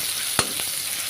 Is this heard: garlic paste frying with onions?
yes